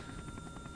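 A helicopter in the video game Outlast 2 gives a rapid, steady rotor chop with a buzzing whine over a low rumble, close and continuous across the whole brief moment.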